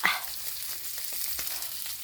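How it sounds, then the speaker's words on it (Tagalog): Fish frying in a pan at home, a steady hiss of sizzling oil with a sharper pop at the start and a few faint clicks, close and moderately quiet, no talking. "Prito ako isda."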